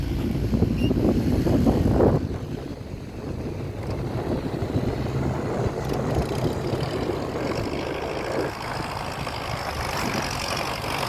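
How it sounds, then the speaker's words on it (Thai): Tractor engine straining to pull a stuck dump truck out of mud after rain, a loud continuous rumbling drone that surges heavily at first, then settles into a steady, slightly lower roar. "เดี๋ยวรถไถช่วยแรงครับ"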